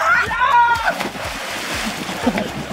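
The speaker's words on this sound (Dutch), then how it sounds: "Gewoon heerlijk zwemmen." Water splashes and sloshes close by as someone swims in fresh water in Lagos, Portugal, with a steady choppy wash throughout and a voice talking over it.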